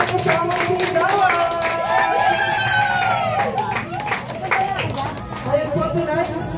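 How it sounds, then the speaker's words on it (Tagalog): A crowd at a 60th birthday celebration claps and cheers under loud overlapping voices and music. The noisy party din holds steady across the whole stretch. "Palakpakan naman po ang kasamang sigawan!"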